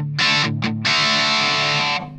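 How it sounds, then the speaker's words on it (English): An electric guitar played through a Lindo Natural Overdrive pedal on a clean amp gives a loud, steady distorted tone: two short strummed bursts, then one long sustained chord ringing out and cutting off, with no voices. "a little bit of distortion, overdrive is quite nice, that one."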